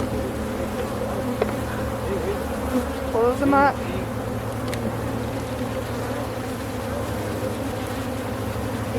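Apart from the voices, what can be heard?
honey bees buzzing being dumped into basket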